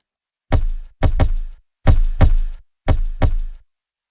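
A punchy electronic kick drum with too much stereo width in its low end hits in three paired bursts, each boomy thump trailed by a short decaying tail, played alone with clear gaps of silence between pairs.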